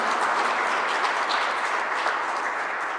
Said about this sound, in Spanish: Un aplauso a Santa María Goretti, por favor.